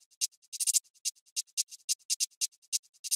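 Crisp drill hi-hats tick steadily, with quieter notes on every fourth step between the accented hits and short fast rolls, bright, dry and alone.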